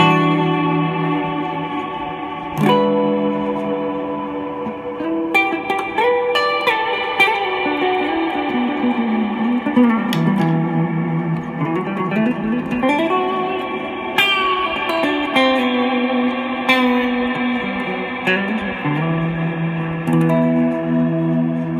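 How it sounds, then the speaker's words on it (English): A Meris Mercury7 reverb pedal washing a played tone into a long, echoing tail with shimmering high overtones, notes swelling and sliding in pitch over a sustained ambient bed. "we should almost get a little bit of a shimmer sound out of this"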